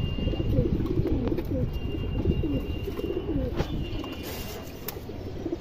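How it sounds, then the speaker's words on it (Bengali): A large khaki female pigeon coos in repeated low, rolling phrases, close and clear over a steady background hum. "আমাদের একটা খাকি মাদি কবুতর আছে"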